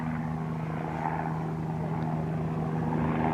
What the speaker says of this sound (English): disturbance, like this helicopter flying over